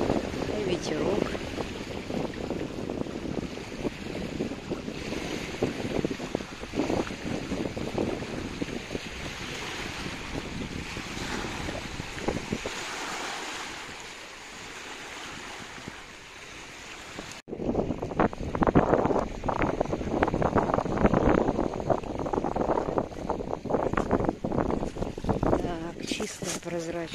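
Autumn sea breeze rushing over a beach beside a lighthouse at Egersheld, Vladivostok, with steady wind noise and soft wash of waves running continuously at close range, briefly easing midway before picking up again.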